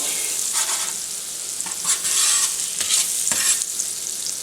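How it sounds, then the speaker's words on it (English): Sticks of butter melt in a hot pan, giving a steady close sizzle with brief brighter bursts of crackle and some stirring noise throughout. "we're going to add another couple of sticks of butter to this. Just a minute to melt."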